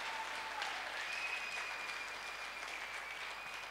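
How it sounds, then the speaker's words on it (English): A church congregation at a Sunday service claps together, a steady wash of many hands at moderate distance, fairly even throughout with no voices on top. "Shall we clap for the Lord?"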